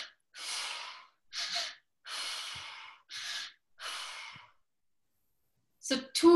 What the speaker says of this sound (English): So two gasps of air, halfway and halfway, and then a big out.